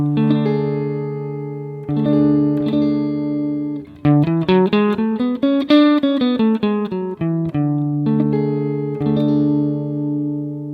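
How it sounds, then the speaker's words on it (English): A Lydian-mode scale on a bright, sustained instrument with reverb: held tones at the start, then a quick ascending and descending run of detached notes in the middle, ending on long ringing notes. "The fourth mode, built off the fourth degree,"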